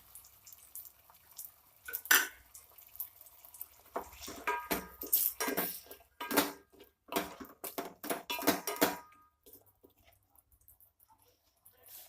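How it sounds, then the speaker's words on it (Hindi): Water splashes and sizzles into a hot pan of fish head curry in uneven bursts, with faint clinks of cookware, fairly close and with no talking. "अब हम इसमें थोड़ा सा पानी डालेंगे।"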